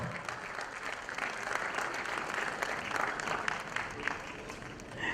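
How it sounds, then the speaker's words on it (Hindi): A crowd applauds warmly to welcome a singer onto a stage show, a continuous, fairly distant patter of many hands clapping throughout. "जोरदार तालियों से प्लीज वेलकम"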